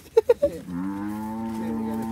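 Cattle on a rural farm: a few short low grunts, then one long, loud, drawn-out moo close by, with nothing else in the foreground.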